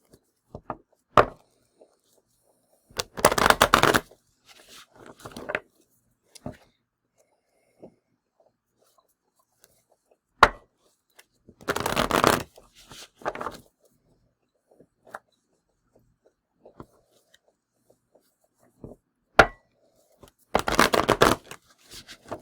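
Shuffling of a Celtic Spirit oracle card deck in three distinct bursts of riffling paper, close and crisp, separated by quiet pauses with small taps and card handling.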